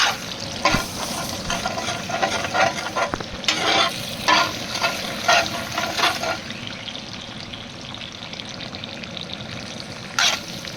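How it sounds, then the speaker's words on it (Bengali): Beaten egg frying in a hot pan for vegetable fried rice, a steady close sizzle with repeated scraping and stirring strokes throughout, no talk. "ডিমটা ভালো করে ভাজা নিতে হইব"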